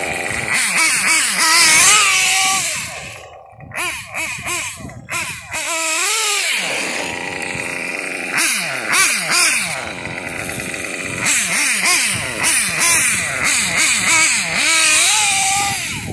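A Kyosho RC car engine revving hard at high speed, a loud, buzzing, nasal whine that climbs and falls repeatedly, briefly cutting out before roaring back up, close and alone.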